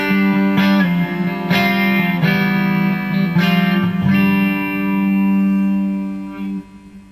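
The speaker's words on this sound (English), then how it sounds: "Digital reverb that's built into this" A Marshall guitar amplifier from 2003 with built-in digital reverb rings out sustained, bright strummed chords, each stroke followed by a smooth reverberant tail that decays slowly into quiet.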